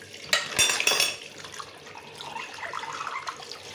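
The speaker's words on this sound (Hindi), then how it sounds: "और फिर धोते हैं बर्तन।" Blackened pots and dishes being washed under a running kitchen tap, with a burst of clattering metal and splashing up front, then a steady stream of water with small scrubbing sounds, close by.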